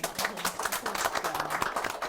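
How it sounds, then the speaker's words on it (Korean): A small crowd at a book talk claps steadily for a couple of seconds, a dense patter of hands at moderate volume. "박수 좀 쳐주세요"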